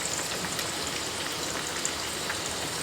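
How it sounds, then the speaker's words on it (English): Onions stir-fried with fried potatoes for a Spanish omelette hiss and sizzle steadily in hot oil, a continuous crackling fry close by with no talking. "we just put in the onion and stir fry that a little"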